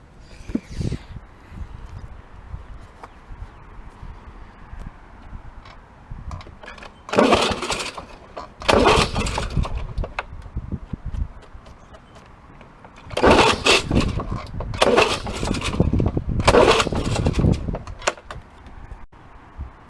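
A two-stroke Lawnboy lawn mower being started: several loud bursts of engine cranking and firing, each lasting a second or two, separated by quieter gaps with no speech.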